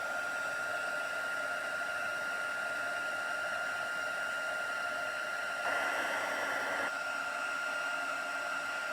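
A heat tool blows a steady, even whoosh as it melts embossing powder on card, a constant hum with a brief louder surge midway and no talking.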